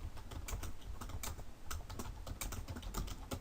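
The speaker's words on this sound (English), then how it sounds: "I'm going to type in Lord of the Rings" Rapid, steady typing on a computer keyboard, a dense run of close, crisp key clicks with small pauses, no voices.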